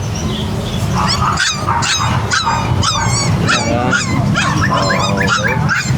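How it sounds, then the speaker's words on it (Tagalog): Pom Japanese puppies barking nonstop, a dense chorus of high, yappy barks and whimpers close by, loud and overlapping throughout. "Pero ang daming aso lang, Kuya Ayan, ha?"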